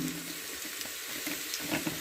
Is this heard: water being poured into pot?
yes